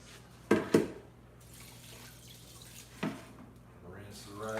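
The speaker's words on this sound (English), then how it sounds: "Rinse the rice off the side." Tap water runs into a sink as rice is rinsed in a home kitchen, a low steady stream broken by a few sharp splashes and clatters, with a person talking faintly nearby.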